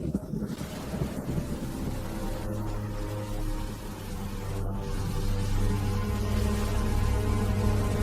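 Heavy rain pours steadily by a river for the whole stretch, with low rumbling beneath it and a few sharper bursts. No one speaks.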